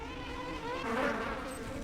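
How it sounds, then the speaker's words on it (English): Bees hum in a steady insect buzz, close and continuous, swelling slightly in the middle of the stretch with no talk over it. "Bees."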